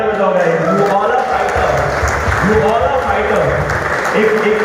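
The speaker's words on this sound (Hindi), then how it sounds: "तो एक बार जोरदार तालियां बजाओ गाइस।" A crowd on a group trip to Igatpuri bursts into loud, sustained applause mixed with cheering and voices, dense clapping running throughout at close range.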